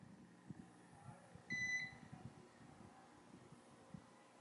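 A single short electronic beep from a UNI-T UT216D digital clamp meter, faint and high-pitched, sounding once over quiet room noise and light handling thumps.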